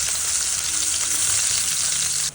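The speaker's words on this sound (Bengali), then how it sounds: "সরষের তেল দিয়ে দিলাম বেশ খানিকটা পেঁয়াজ কুচি" Chopped onion frying in mustard oil, a loud, dense, continuous sizzle close to the pan that drops off abruptly at the end, with no voices.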